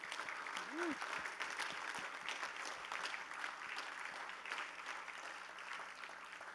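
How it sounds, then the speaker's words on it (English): A concert audience applauds steadily after a performance, a dense wash of clapping from start to finish with a brief vocal sound near the beginning. "So one more round of applause for them"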